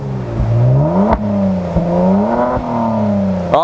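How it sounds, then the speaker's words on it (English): A 2019 Kia Stinger GT revs from the rear, its exhaust note rising and falling through several throttle blips, loud and close, with no talk over it. "Let's head to the rear and get a load of the noise this car makes"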